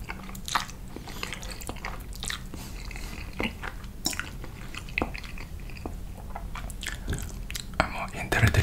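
Close-miked chewing of carbonara pasta, with wet bites, soft squishes and small crunchy clicks scattered throughout, and a quiet voice murmuring underneath.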